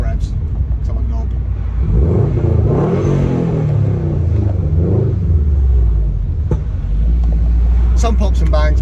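Subaru hatchback fitted with a Cobra exhaust, engine revving and rumbling loudly up close as the car pulls away in a 20 mph zone, the note rising and falling through the gears.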